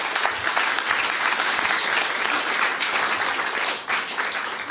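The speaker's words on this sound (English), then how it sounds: "Can I then have a big applause for my jury?" An audience at a human rights event applauds the jury, a dense and loud burst of clapping from a full room that holds steady throughout and eases slightly near the end.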